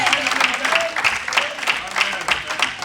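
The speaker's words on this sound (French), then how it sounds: "Acclamons le Seigneur pour ça." A church congregation breaks into applause and acclaim for the Lord, a steady wash of clapping from a crowd with voices mixed in, fairly loud and sustained.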